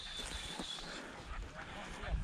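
Beagles and greyhounds bark and yip while chasing a rabbit on a hunt, the scattered barks faint and somewhat distant, with people's voices in the background.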